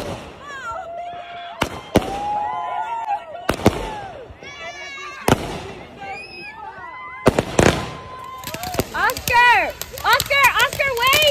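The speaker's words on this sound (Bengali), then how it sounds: "তো তোমরা এখন খুব সুন্দর সুন্দর ফায়ার ওয়ার্কস দেখতে পাবে।" Fourth of July fireworks crack and boom in sharp, scattered bursts, some near and loud, with whistling rising trails between them and a dense flurry of pops toward the end, while people talk and shout nearby.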